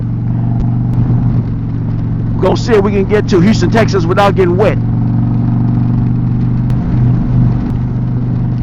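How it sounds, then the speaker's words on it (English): Engines of four motorcycles, including an Indian Pursuit, and one car rumble steadily as the group sets off on a ride toward Houston, someone talking over the low, continuous drone. "There are 4 motorcycles and 1 car."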